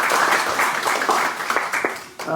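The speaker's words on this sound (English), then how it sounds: "A round of clap, of course" Brief applause from an audience at a tech talk session on conscious technology, a short burst of clapping that fades toward the end as a voice begins speaking.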